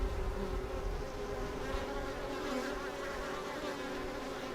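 Honey bees buzz steadily at a hive entrance, a dense continuous drone of many wings close by with no talk over it.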